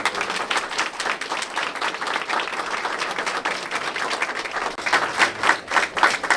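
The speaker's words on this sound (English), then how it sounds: "Round of applause for John." Audience applauding at an esports center ribbon-cutting ceremony, dense continuous clapping from a sizable crowd that swells louder toward the end.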